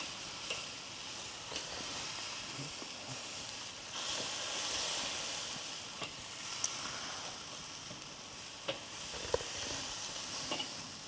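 A steak sizzles on a Weber grill on a rainy day, giving a steady, fairly quiet hiss. A few faint clicks and knocks sound over the hiss, with no talking.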